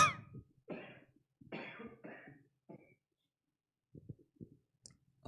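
Several close coughs come in a short burst during a church service, followed by quieter throat sounds and small clicks in an otherwise silent room.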